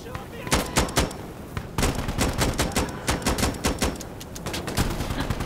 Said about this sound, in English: They fire at me.